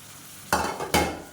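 Green chilies with mint and coriander being stirred in a hot pan, two sharp scraping stir strokes over a soft sizzle, close and fairly loud.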